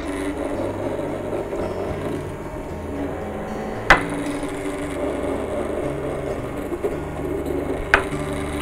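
Hammer striking a nail into timber, two sharp isolated blows about four seconds apart, heard over a steady low background hum.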